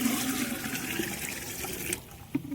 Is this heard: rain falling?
no